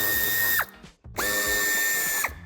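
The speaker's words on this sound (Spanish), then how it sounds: "quitaremos los tres tornillos que sujetan el paragolpes. También son tornillos de Torx de 25" Power drill whirring steadily as it backs out Torx 25 screws holding the bumper of a 2014–2017 Škoda Octavia Scout III, with a brief pause between two long, loud runs and a short ratcheting chatter as each stops.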